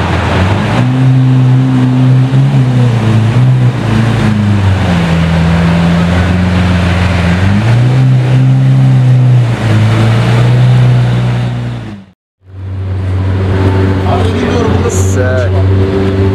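A Porsche Carrera GT's V10 roars loudly at full throttle, its pitch climbing and dropping through several gear pulls, cutting out for a moment before droning on, with people talking over it.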